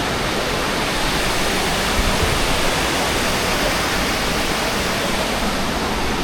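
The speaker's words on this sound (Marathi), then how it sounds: "मस्त खळखळणारं पाणी" River water rushes over rocks beside a riverside temple at Dugve in Konkan, a loud, unbroken roar of churning flow, close and constant with no other sounds.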